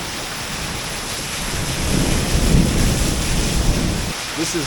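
Steady rain pours outside while someone shelters beneath a small roof, a dense, continuous hiss with a rumbling low wash that swells slightly midway, no voices present.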